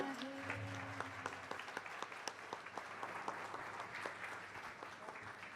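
An audience claps for a singer's song at a Marathi stage show, with steady applause that holds at an even level throughout and a few louder individual claps mixed in.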